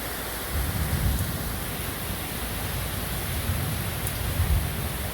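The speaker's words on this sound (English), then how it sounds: "Lightning strikes. Heavy, torrential rain, heavy." Heavy torrential rain pours down during Tropical Storm Claudette's landfall on Dauphin Island, a dense, steady roar with no pauses that swells slightly near the end, with no one talking.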